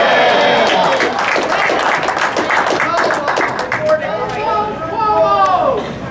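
A crowd of angry protesters at a natural gas rights rally applauds, with a dense wash of clapping and loud chatter that continues throughout.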